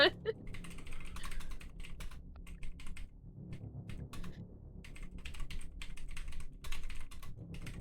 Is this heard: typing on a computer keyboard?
yes